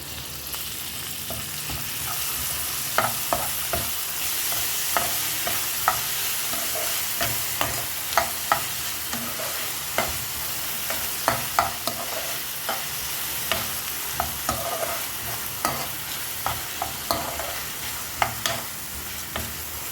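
Onion and curry leaves sauté in a hot pan for a tomato-onion chutney, a steady broad sizzle running throughout with frequent sharp scraping clicks of a spoon stirring against the pan, no voices.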